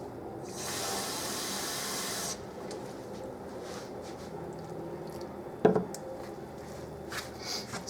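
A kitchen water tap runs in a steady hissing stream for about two seconds, followed by quieter handling sounds and a sharp clink as water is collected for making tortilla dough.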